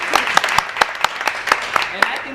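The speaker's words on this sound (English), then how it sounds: "Round of applause for that one." Applause from an audience at a roundtable meeting, a dense patter of many hands with sharper individual claps standing out, fairly close, with a voice faintly mixed in.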